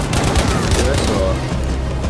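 Gunfire in a military video game, a dense rattle of shots and booms close by, with a voice talking over the continuous rumble of battle.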